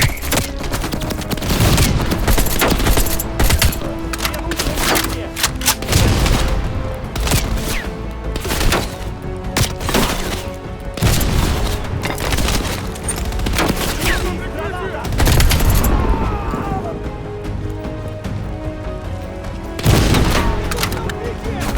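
Sustained bursts of machine gun fire and heavy gunfire ring out in a Call of Duty Black Ops Cold War battle, loud and dense with booming impacts, recurring in waves across the whole stretch.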